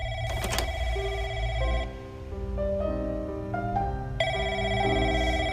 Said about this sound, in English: Let's go and listen to that phone call.